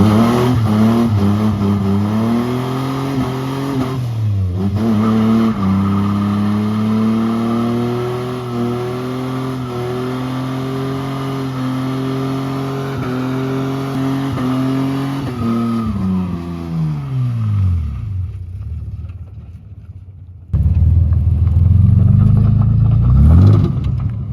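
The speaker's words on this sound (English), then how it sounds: "I just went and done a skid up there" A drift car at a competition revs hard and holds a sustained engine drone while sliding, pitch rising and falling through long skids before dropping off, then roaring back loudly near the end.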